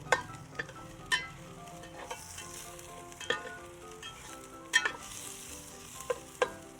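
Garlic and onion, some onion still in its skin, sautéing in a little oil for pakbet, with a steady close sizzle broken by sharp clacks of a utensil stirring against the pan.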